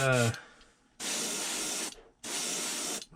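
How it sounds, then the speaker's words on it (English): An airbrush spraying green paint hisses in two sustained bursts of about a second each, separated by a short pause, after a brief bit of voice at the start. "spray the top of this green"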